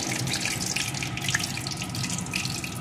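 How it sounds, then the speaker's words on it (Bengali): Bay leaf, dried red chili and whole cumin frying in hot oil for a jackfruit dalna tempering, a steady dense sizzle and crackle heard close up without pause. "ফোড়নগুলোকে একটু লাল লাল করে ভেজে নিয়ে"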